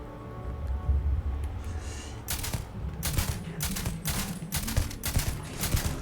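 A weak-sounding gun fires in Starfield on PC, with a series of sharp, irregular shots, roughly six or seven cracks spaced about half a second apart over a low background hum.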